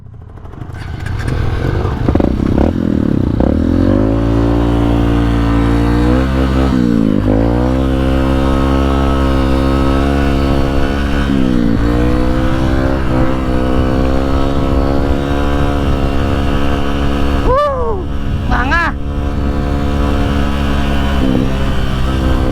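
A trail enduro motorcycle engine with a fault revs up and down repeatedly, loud and close, with rising and falling pitch sweeps and a rough idle between throttle blips.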